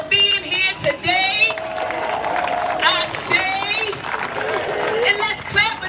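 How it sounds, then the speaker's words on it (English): A rally crowd at a reparations event claps steadily with whoops and cheers on top, a dense sustained wash of applause interspersed with raised voices. "Clap it up for your black selves for being here today."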